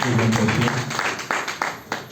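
A small audience claps for a presenter after a talk on home solar energy, several sparse, uneven claps over a short stretch, with a voice speaking at the start.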